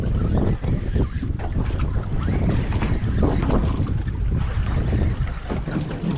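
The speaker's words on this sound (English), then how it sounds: "They heard the troll motor turn." On a fishing boat out on open water, a trolling motor runs as a continuous loud churning drone under heavy wind buffeting the microphone, with no speech.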